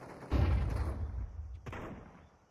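A flashbang grenade detonates in Counter-Strike with a single sharp, loud bang that rolls off into a fading rumble, followed by a smaller thud about a second later.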